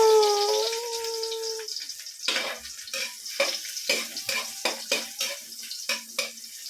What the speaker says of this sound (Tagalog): Gisahin muna natin mga idol.